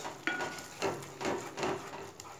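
Spices stirred into sev tamatar sabzi (tomato curry with turmeric, red chilli powder and coriander-cumin powder) scrape and sizzle in a pan, with a steady rhythm of spoon strokes roughly every half second.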